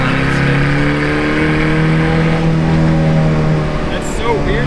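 A VW TDI turbo-diesel engine swapped into a Ford Ranger pulls steadily in first gear, its drone slowly rising in pitch inside the cab, with brief voices near the end.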